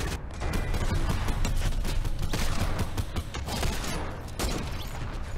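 Rapid gunfire in the Fortnite Battle Royale video game, a dense continuous barrage of shots, loud and close, with no speech over it.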